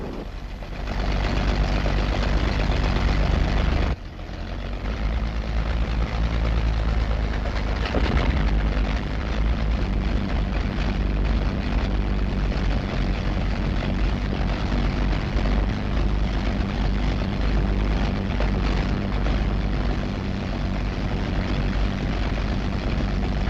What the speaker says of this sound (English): Engines throb and leap to life